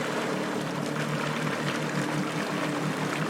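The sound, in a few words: Waverunner jet ski engine idling forward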